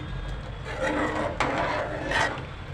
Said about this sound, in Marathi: ह्यामध्ये मी या राजगिराच्या लाया ढवळत आहे